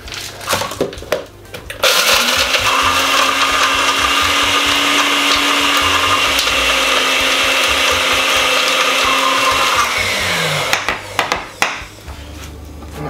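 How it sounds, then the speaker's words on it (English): A blender whips dark chocolate, walnuts and sunflower seeds in a loud, steady motor whir lasting about eight seconds. Short clatter and knocks come before it starts and after it stops. "The blender was a little bit damp today."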